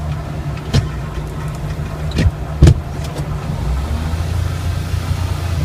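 A 4x4 truck climbs a rain-soaked track, its engine a low steady drone inside the cab with occasional knocks and bumps from the rough ground.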